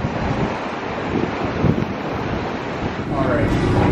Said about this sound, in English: I'm just transfixed by the waves.